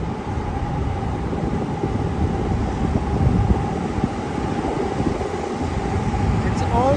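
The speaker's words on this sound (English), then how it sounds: "It's also a little bit windy today, so I hope it won't too annoying sound-wise today" Low, rumbling wind buffets the microphone throughout on a walk in Tokyo, a constant rough roar with faint background hum.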